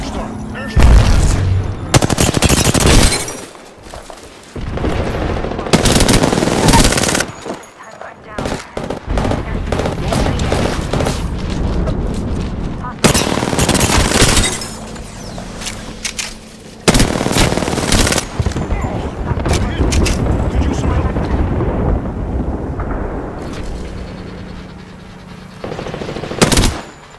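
Automatic gunfire in the video game Apex Legends, loud sustained bursts and rapid rattling volleys that continue almost without pause for close to half a minute, mixed with in-game voice callouts.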